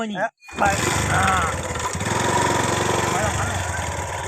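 A newly bought motorbike's engine starts after a brief silence and keeps running with a steady, throbbing idle close by, with voices talking over it.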